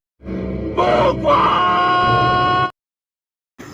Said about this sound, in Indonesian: meluapkan amarahnya dengan berteriak sekencang-kencangnya